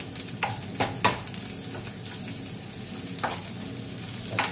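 Onion fries in a pan for squid adobo, a quiet steady sizzle broken by several short scraping stirs of a utensil.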